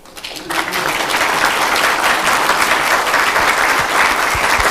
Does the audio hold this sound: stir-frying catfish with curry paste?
no